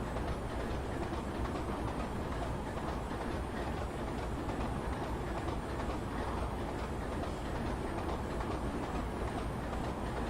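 A Class 25 diesel locomotive running on the Western Lines of Scotland in Train Simulator 2015, a constant heavy engine rumble and rolling rail noise at a steady level throughout, with no voice.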